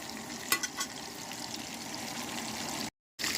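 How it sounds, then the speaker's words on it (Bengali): Fish frying in hot oil in a pan, a loud dense continuous sizzle and crackle up close, with a few sharp spatters early on and a brief dropout near the end. "এই যে মাছ ভাজা হচ্ছে এখানে।"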